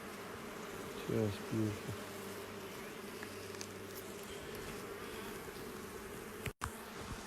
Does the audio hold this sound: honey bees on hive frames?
yes